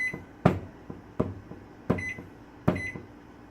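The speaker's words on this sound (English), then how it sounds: "And then you set a timer" A kitchen timer is set during gumbo cooking, giving several short, sharp electronic beeps at uneven intervals alongside lighter taps from the button presses, close by with no voices.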